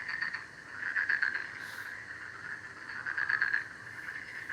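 Frogs in a swamp croak steadily in a dense, continuous chorus that swells and fades in waves, moderately loud and with no voices over it.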